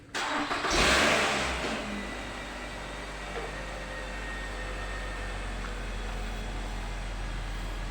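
A Nissan X-Trail T30 petrol engine cranks briefly, catches with a loud burst, then settles into a steady, close idle.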